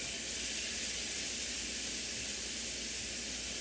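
Steady, bright hiss of ground beef sizzling in a hot skillet, constant and close with no talking.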